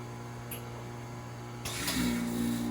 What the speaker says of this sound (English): hit the evac button, and that should turn on the pump to a higher intensity